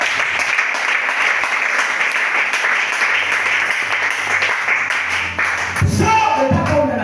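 A church congregation applauds the Lord during a sermon, with sustained loud clapping under speech and thuds near the end.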